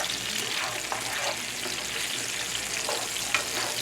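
Chopped pepper and ginger fry in a hot pan, giving off a steady, moderately quiet sizzle with occasional soft scrapes and taps as they are stirred.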